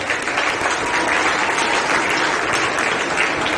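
Loud, sustained audience applause fills the whole stretch at a career counselling program on a school campus, dense steady clapping with no pauses and no talk over it.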